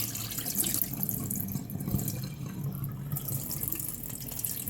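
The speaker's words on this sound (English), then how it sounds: "I'm going to leave it to soak for about maybe 2 minutes in some warm water" Warm water runs steadily from a tap over fruits being soaked to prepare a Caribbean fruit cake, a continuous close splashing flow with no one speaking.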